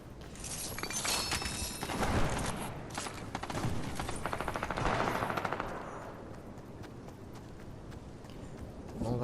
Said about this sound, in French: On va aller voir où est-ce que ça tire. Ça tire par là.